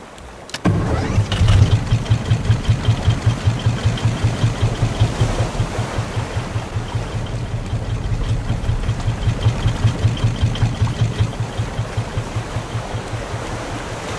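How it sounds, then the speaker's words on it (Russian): A raft motor in the survival game Raft starts with a sharp kick and then runs at a steady rhythmic chug, moderately loud, over a faint wash of water. "Так, еще один двигатель."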